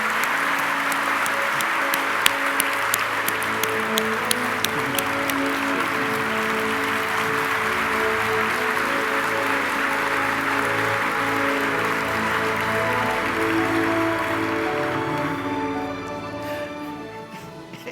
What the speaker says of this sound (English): Would you join me in a round of applause for the work that he's done?